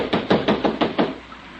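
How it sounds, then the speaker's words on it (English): Pounding on a door in an old-time radio drama: six heavy, evenly spaced fist blows, loud and close, with no voices. "He's pounding on that door, Myra."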